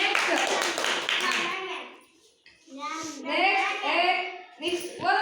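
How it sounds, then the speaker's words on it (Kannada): Classroom children clapping for a student during a maths activity, a loud burst of quick hand claps at the start, then children's voices talking after a brief pause. "ಅವನಿಗೆ ಚಪ್ಪಾಳೆ ನೋಡಿ."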